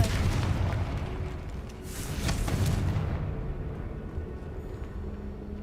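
A Confringo blasting spell explodes in the Hogwarts Legacy video game with a loud, dense booming roar that surges twice and then settles into a lower rumbling tail.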